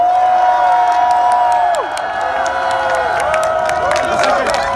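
A convention crowd at PAX East in Boston cheers, whoops and applauds for Nintendo, a loud sustained roar with scattered shouts and claps close around.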